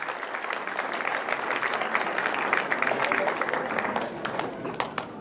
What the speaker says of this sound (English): So a big round of applause to all our volunteers.